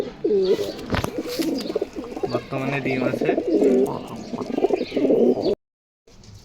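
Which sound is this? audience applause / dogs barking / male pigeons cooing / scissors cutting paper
male pigeons cooing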